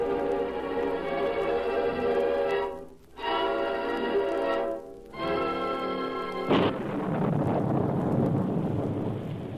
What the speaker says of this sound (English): All we need to make it complete is a rip-snorting thunder and lightning storm.